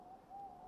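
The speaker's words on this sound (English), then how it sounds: "That owl, seriously." A single soft, steady owl hoot drifts through an AC Valhalla scene, low and faint, held for under a second against quiet ambience.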